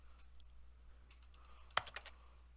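A few computer keyboard keys pressed in a quick cluster, crisp clicky taps close to the mic against a quiet room hum, with a couple of faint isolated presses beforehand.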